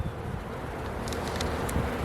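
Honey bees hum around an open beehive in a steady, low, close drone, with a few brief higher whines from individual bees passing by.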